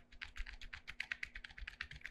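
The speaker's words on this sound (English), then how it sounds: "let's hear how the switch sounds like." Switches on an Armageddon Kalashnikov AK-666 SFX plastic gaming keyboard clatter under rapid, fairly even typing, a quiet, close run of soft keystrokes with no talking.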